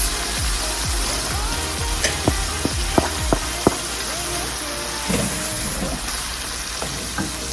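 Onions and tomatoes sizzle in a pan over turned-down heat, a constant close frying hiss with several sharp pops and clinks of a utensil scattered through.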